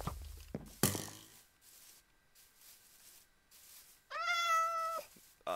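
A cat meows in the video game Minecraft, one clear drawn-out call near the end after a few faint thumps, close and loud over quiet game background.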